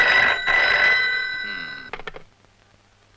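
An old landline-style telephone bell rings loudly and steadily for nearly two seconds in an indoor setting, then cuts off, followed by faint handling noises and quiet room sound.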